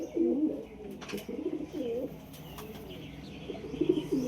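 Domestic desi pigeons kept as high flyers coo repeatedly in low rolling phrases, several birds close by, with a few soft clicks and brief sounds between the calls.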